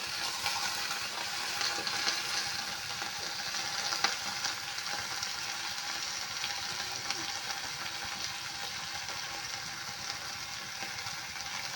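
Fish sizzling as it fries in hot oil with green chilies, a steady dense crackle running throughout at moderate, even loudness with no voices.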